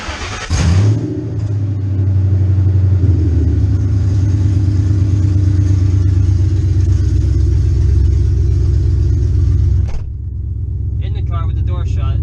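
A Ford Mustang GT 4.6 V8 fitted with open long-tube headers runs loud and close, a steady deep rumble that holds for about nine seconds before the engine note drops off, with someone briefly talking at the end.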